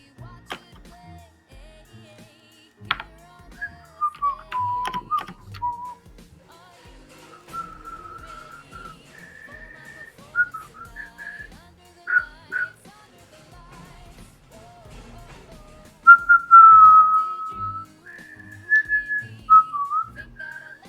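A person whistling a tune during a Roblox game session, with melodic whistled phrases rising and falling in short runs and pauses between them, fairly close, over faint background clicks.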